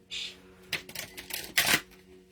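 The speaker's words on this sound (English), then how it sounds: "Oh, that was a good shuffle." Tarot cards shuffled by hand in a quiet room, a few quick riffling bursts and soft clicks, close and fairly faint.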